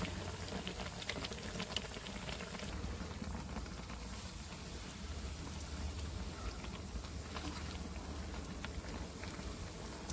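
Bread pakoras frying in hot oil give a steady, dense bubbling crackle that holds at an even level throughout, with faint clicks from the pieces being turned and no voices.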